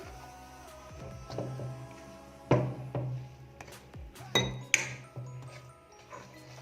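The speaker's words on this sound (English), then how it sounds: "I'm going to mix this just a little bit with my spoon" A spoon knocks and clinks against a bowl while mixing a bun dough, with several sharp ringing taps and softer scraping strokes spread across the clip, fairly quiet and close.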